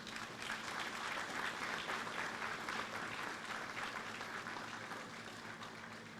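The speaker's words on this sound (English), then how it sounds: "Ladies and gentlemen, let us give him a wonderful applause." A crowd claps steadily and loudly, a dense wash of applause that holds at full strength for several seconds with no voices standing out.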